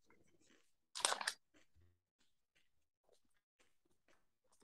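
Crunchy chewing of a Butterfinger candy bar: one loud crisp bite up close, then softer scattered chewing clicks in a quiet room.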